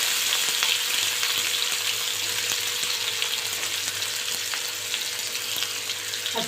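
Chopped onion hisses and crackles in hot oil for a vegetarian soybean kheema, a steady close sizzle that eases slightly toward the end, with a few faint clicks of stirring.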